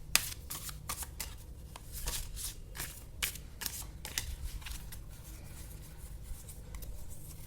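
Tarot cards being shuffled by hand, a steady run of soft riffling and sliding card sounds, close and fairly quiet, with no talking.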